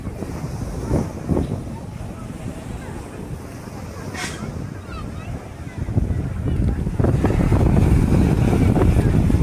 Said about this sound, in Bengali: প্রচণ্ড হাওয়া, ঠান্ডার মধ্যে শীতের মৌসুম চলছে এখন।